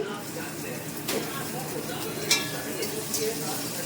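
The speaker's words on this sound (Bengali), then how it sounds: "পেঁয়াজটা একটু হালকা ভেজে নেব" A whole onion, cut into quarters, fries lightly in a pan with crushed garlic. It makes a steady, close sizzle broken by a few light stirring scrapes.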